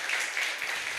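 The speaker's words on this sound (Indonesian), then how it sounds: "tepuk tangan." A crowd at a church worship retreat claps in a brief, even burst of applause, fairly close and bright with no voices over it.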